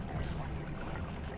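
Water pours steadily in the Hello Neighbor video game, a continuous rushing wash with no clear breaks that carries through the whole moment at moderate level.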